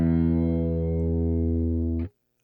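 A single clean electric guitar open-string note from a Melonare GA-S2-5 rings out steadily and bright for about two seconds, then cuts off abruptly into silence.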